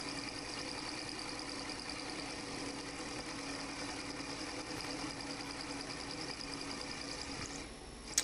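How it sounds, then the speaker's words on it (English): A milling machine makes a continuous conventional cut along the back edge of a T-nut slot, a faint, steady mechanical hum with a high tonal whine that holds evenly throughout, ending with a small clunk. "make that same continuous cut across the back edge, conventional mill cut"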